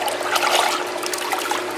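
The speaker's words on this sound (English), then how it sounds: "Then I'm going to take the pot and dip it in the water, completely submerge it actually" A terra cotta pot is dipped into water and fully submerged, giving a close, steady trickling and gurgling of water with no voices.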